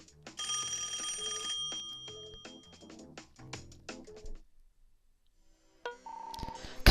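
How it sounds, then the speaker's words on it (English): A telephone rings in the video game Rhythm Thief, a bright electronic bell repeating for about four seconds. A brief lull follows, then a few short beeps and tones close the passage. "she's going to run off thinking that she needs to answer a phone"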